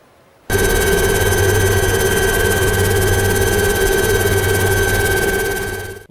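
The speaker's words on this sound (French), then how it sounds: "Aujourd'hui, c'est Bertrand qui prend le relais dans l'hélico." Loud, steady helicopter engine and rotor drone starting abruptly after a half-second of near silence, holding constant, then tapering slightly at the end; no voices, heard from inside or close to the helicopter filming in the Chamonix mountains.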